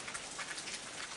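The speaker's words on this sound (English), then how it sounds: "you're sitting in the rain there." Steady rain falls at night on a surface, a dense, even hiss of drops pattering continuously with no voices.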